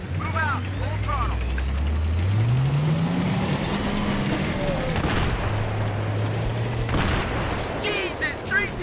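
An armored vehicle in Battlefield 3 roars at full throttle, its deep engine drone rising and falling in pitch, loud and close, with sharp booms and crackling gunfire breaking through around it.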